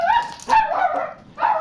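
Lily the dog barks excitedly at a delivery, three loud, close yelping barks in quick succession with brief gaps, heard alone.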